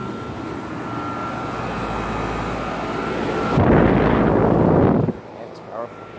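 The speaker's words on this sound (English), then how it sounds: "And that's a Train XR12." A Trane XR13 2-ton central air conditioner from 2006 running outdoors at a condo complex, a steady close fan whoosh and hum that swells louder toward the end before dropping off.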